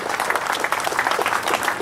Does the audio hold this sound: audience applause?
yes